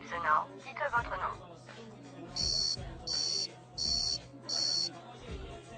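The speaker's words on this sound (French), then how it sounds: "Après le bip sonore, dites votre nom." Four evenly spaced electronic beeps from a prison's automated phone surveillance system sound crisply in sequence, following a brief stretch of voices.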